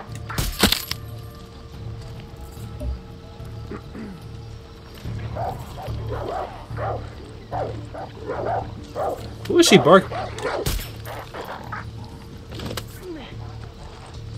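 A dog barks in the Far Cry 6 video game, a few sharp barks mixed with game sounds while players chat over it.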